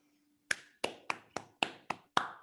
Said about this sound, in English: Please, everyone give him a big round of applause.